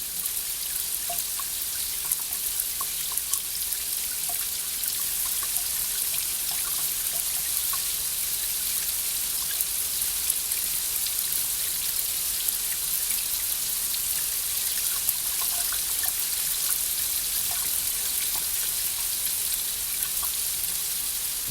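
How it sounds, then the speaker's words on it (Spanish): Steady Chilean rain falling without pause, a dense even hiss of drops with scattered brighter drips and ticks on surfaces, at a constant moderate level with no voices. "Un poco de lluvia chilena para ti"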